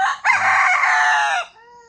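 A chicken gives one loud, close, drawn-out call lasting over a second, more like a crow than soft clucks, then fades into quiet.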